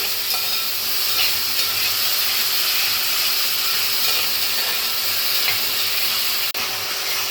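Chili chicken being stirred in a hot pan after tomato sauce, green chili sauce and red chili sauce are added. A steady, close sizzle and hiss carries throughout, with one sharp click near the end.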